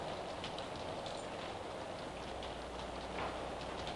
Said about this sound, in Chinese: 莫讲外面是落大雨